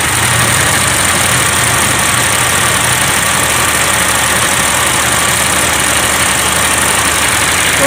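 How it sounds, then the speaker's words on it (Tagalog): A Ford EcoSport engine idles smoothly and evenly after a timing belt replacement, a steady low hum with a constant mechanical rumble and no revving throughout. "tahimik naman yung andar ng makina"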